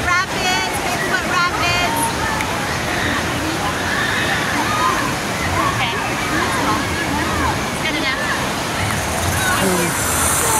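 Water rushes and sloshes loudly and continuously at the Big Foot Rapids raft ride at Knott's amusement park, with crowd babble and voices mixed into the constant churning roar.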